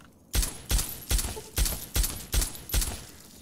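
Seven evenly spaced, punchy gunshots from the player's weapon in the Fallout game Tale of Two Wastelands, firing in a steady rhythm with a loud sharp crack each time and no voices.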